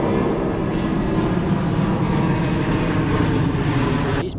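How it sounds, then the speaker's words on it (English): A jet fighter passes overhead near a waterway park in Singapore. It makes a loud, steady, broadband roar that fills the whole clip without fading. "These planes, man, if it's not passenger planes, it's jet fighters."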